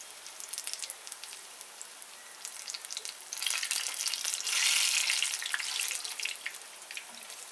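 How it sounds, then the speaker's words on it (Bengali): Raw jackfruit koftas deep frying in oil over a medium flame while being turned, giving a steady crackling hiss that swells louder and denser midway before easing back, with no voices. "এগুলোকে একটু ঘুরিয়ে ঘুরিয়ে ভেজে নিতে হবে।"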